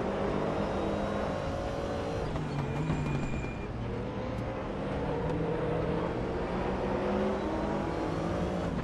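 A Corvette GT3-R race car in the RaceRoom racing game, driven in a sprint race at Zandvoort, gives a loud, continuous engine drone with shifting pitch and no pauses.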